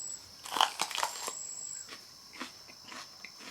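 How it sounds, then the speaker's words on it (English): Crisp crunching bites into a raw Al-Bab bell pepper, a sweet Capsicum annuum pod, with a cluster of loud snaps near the start followed by softer chewing crunches, close up with no talking. "I'll take another bite."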